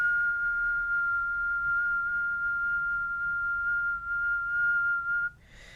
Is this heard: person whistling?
yes